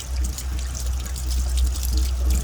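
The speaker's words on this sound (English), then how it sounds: "as you take that wand and spin it around, it washes it off the walls" Water sprays and rushes steadily inside an Atwood RV water heater tank as a wand rinses it out, a loud, continuous wash of liquid close up with no voices.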